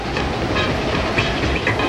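A passenger train runs on rails during an airport express ride in Hong Kong, passing beneath the harbor and across bridges, giving a steady, close, continuous rumble and rolling rail noise with no voices.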